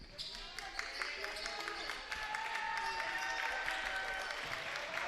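Crowd at a boys' high school basketball game between St. Mary Springs and WLA, a steady wash of cheering and scattered applause swelling through the gym, with sneaker squeaks and an announcer's voice faintly underneath.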